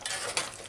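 A brief, soft stir through goat curry gravy simmering on the stove, with a light sizzle and a faint scrape of a utensil, with no talking.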